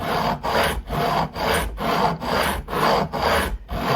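A file rasps back and forth over the fret ends of a Stratocaster neck to bevel the edges, with steady, evenly spaced strokes, about eight in four seconds, close and clear with no talking.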